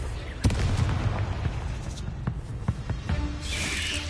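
Confringo spell blast in Hogwarts Legacy, a few sharp booming bursts amid combat clatter, with a brief bright fizzing flare near the end.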